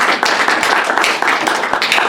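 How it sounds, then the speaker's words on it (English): Audience at an academic talk on Maasai history claps in welcome, a loud, close burst of many hands clapping continuously with a few sharper individual claps cutting through. "Should we clap?"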